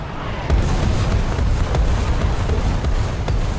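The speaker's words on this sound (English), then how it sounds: "Weird place for artillery," Heavy artillery explosions in War Thunder tank combat with a KV-1 m1942 heavy tank, a loud, continuous rumbling roar of booms and blasts with sharp bursts layered throughout, dense and close.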